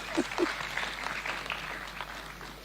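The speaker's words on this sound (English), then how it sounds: "You clap for the Chancellor, honestly." Applause for the Chancellor at a university graduation ceremony: a crowd's clapping with a couple of louder nearby claps at the start, settling into a moderate, continuous patter.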